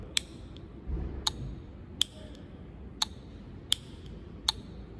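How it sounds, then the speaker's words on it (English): Sharp, evenly spaced clicks from a VVT solenoid switching on and off repeat about once a second over a low mechanical hum, crisp and close. "you need to make sure that you hear clicking sound uh, from the VVT solenoid"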